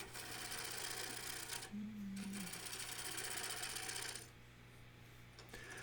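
A wood lathe turning a square crotch live oak bowl, removing the leftover core, gives a constant loud hum and whir with steady broadband cutting noise that briefly dips and shifts near the end.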